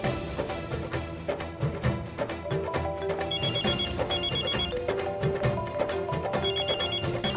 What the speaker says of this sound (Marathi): मी रिंग वाजतच ठेवते